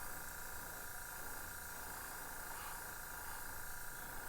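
An airbrush sprays paint onto a fishing lure in a fire tiger pattern, giving off a steady, faint, continuous hiss for a few seconds with no pauses.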